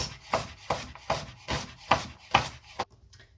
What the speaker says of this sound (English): We're going to slice and dice